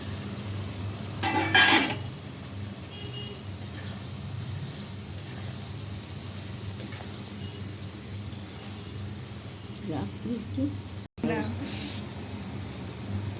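Eggplants fry in a pan seasoned with chili powder and mustard powder, giving a steady low sizzle throughout, with a brief clatter of utensils near the start and a few soft stirring scrapes later, under faint talk.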